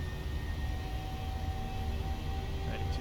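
Boeing 737 engines in the PMDG flight simulator spooling up to takeoff thrust, a steady dense roar with faint tonal whine lines, constant and continuous with no talking.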